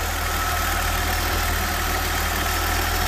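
A BMW E93 idles while cold, a steady, even engine hum with a low pulsing underneath, close and constant throughout with no voices.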